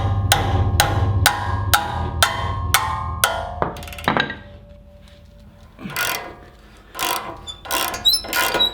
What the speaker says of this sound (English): using a 17mm socket, we're going to take these two bolts loose